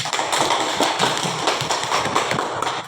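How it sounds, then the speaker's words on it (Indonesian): A classroom group applauding, with dense, uneven clapping that stays fairly loud and close for a few seconds. "Mari kita berikan aplaus kepada kelompok matahari."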